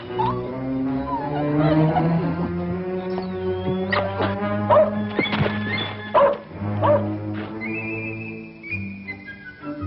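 A puppy barks and yips several times in an outdoor Western setting, the calls close and fairly loud, with a whistle-like tone near the end and no talk over them.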